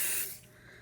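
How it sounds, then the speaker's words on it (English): Spray adhesive hisses from a can onto a cloth pad in a short, soft burst that fades away quickly into quiet. "I'm going to spray again a little bit of spray adhesive here on"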